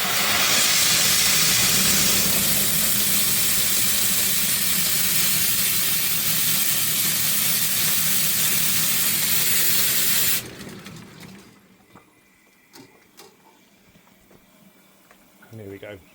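Steam blasting from the open drain cocks of an Aveling & Porter H type steam engine, a loud continuous roaring hiss that cuts off abruptly, leaving quiet clanks and mechanical ticking.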